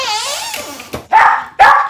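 Small terrier barking indoors, a whiny yip followed by two sharp, loud barks close by, with brief pauses between them.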